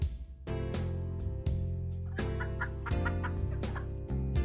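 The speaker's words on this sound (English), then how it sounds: "And we've got the first chicken sound." Cartoonish chicken clucking effect from a Godot 2D farming game, several short bright clucks in quick succession over steady background game music, loud and close with no talking.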